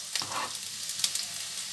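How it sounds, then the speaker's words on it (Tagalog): Onion sautéing in a pan for a Filipino stir-fried vegetable dish, a steady close sizzle with soft crackles and occasional stirring scrapes. "Yung sibuyas, palagi ko po yan inuuna pag nagigisa po"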